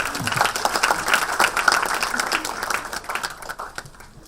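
An audience at a Korean National Assembly floor leaders' candidate speech event applauds warmly, a steady round of clapping that slowly fades, with some faint voices underneath.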